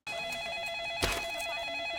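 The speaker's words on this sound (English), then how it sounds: "And then the phone rings." A telephone rings in the film Training Day, a continuous trilling electronic ring held at a steady level, briefly overlapped by a short burst of broadband noise midway.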